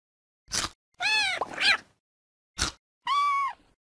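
A kitten in a CBeebies pet video game meows several times, with clear, close, high-pitched cries in short bursts separated by pauses.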